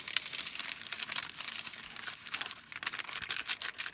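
Craft material being folded by hand gives soft, close crinkling and rustling in short bursts over a few seconds, quiet and with no one speaking.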